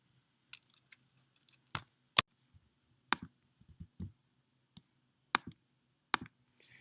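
Sharp computer mouse clicks come up close and quiet, several single and double clicks spaced irregularly against near silence, with small faint handling taps between them.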